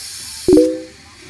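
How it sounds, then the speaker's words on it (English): An Instant Pot pressure cooker vents steam during release after cooking a pork belly coconut curry. A short, loud burst of hissing with a brief whistling tone lasts only a fraction of a second, then fades to a quieter background. "So now we're gonna release the steam"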